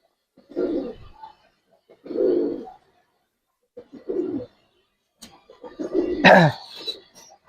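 Silver Giribaz pigeons coo in three low, rolling phrases separated by short pauses, close and clear, followed by scuffling and a brief sharp flutter near the end.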